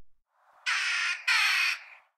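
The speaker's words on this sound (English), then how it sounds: "the call of the jackdaw is clearly higher pitched and screechy" A jackdaw gives two high, screechy calls in quick succession, each about half a second long, fairly close and clear with no other sound.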